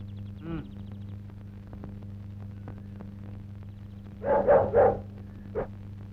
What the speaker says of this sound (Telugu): కుక్క కుక్క